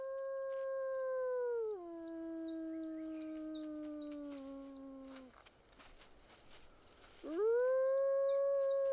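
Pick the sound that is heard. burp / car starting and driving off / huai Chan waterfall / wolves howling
wolves howling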